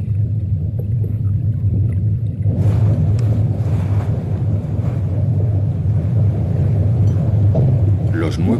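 Low, continuous engine rumble from a motorized whaling ship on the Arctic Ocean, steady and heavy, with a broader noise layer joining after a few seconds.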